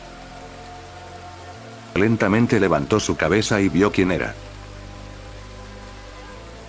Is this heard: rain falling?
yes